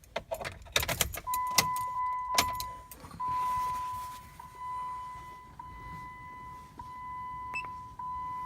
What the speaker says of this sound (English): I am going to turn the car on.